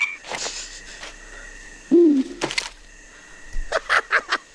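Owls hooting at night in a film scene alongside frogs, with several separate calls spaced apart and a cluster of short, sharper bursts near the end.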